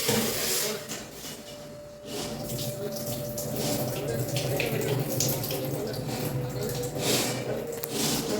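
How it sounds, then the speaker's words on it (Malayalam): Green gram being rubbed and washed under running tap water, a steady rushing stream with squishy handling sounds, close and moderately quiet, with a brief dip partway through. "നല്ല ഇങ്ങനെ ഞരടി കഴുകാം നമ്മുടെ ചെറുപയർ."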